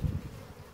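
Honeybees buzz in a brief, low hum at an opened beehive during a beekeeping inspection, loudest at the start and then fading to a softer drone.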